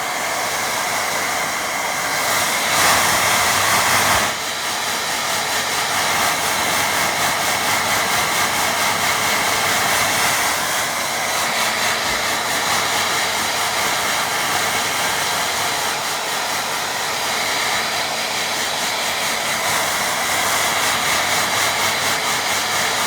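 A hair dryer blows steadily to dry a watercolour painting of snowy peaks, giving a loud, continuous close-up whoosh and whine that runs without a break from start to finish.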